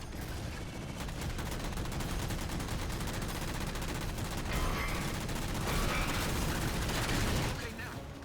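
Rapid automatic gunfire and bursts of weapons fire from the Halo game Spartan Ops on Legendary, loud and continuous with dense overlapping shots that swell toward the end.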